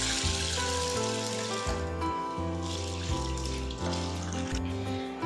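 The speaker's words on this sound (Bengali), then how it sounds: "এই বোলের মধ্যে ডালটা দিয়ে আমি ভালো করে ধুয়ে নেব।" Chana dal being washed in water in a bowl, a steady wash of running and sloshing water that continues under loud background music throughout.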